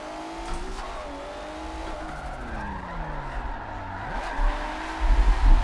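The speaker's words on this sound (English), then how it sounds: "Roasting our tires a little bit." A Street Style Reborn pro drift competition car slides through a qualifying run, tires squealing and skidding in long sweeping tones over a loud, steady engine roar that swells toward the end.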